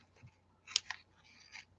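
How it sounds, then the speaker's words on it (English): Small crafting scissors snip ribbon during card making, giving a few quiet, close, crisp cuts in a quiet room with no talking. "Using my point of my scissors."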